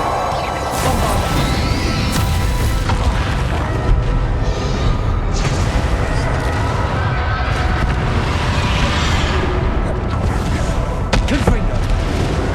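The Bombarda spell in Hogwarts Legacy detonates amid loud, dense combat, heavy booms and crashes layered with whooshes and game sounds over a constant roaring bed, with voices mixed in.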